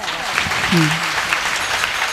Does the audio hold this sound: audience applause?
yes